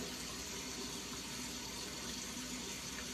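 A steady, full rush of tap water runs without a break for a few seconds as it wets the base of a shaving soap, close and fairly loud, with no voices.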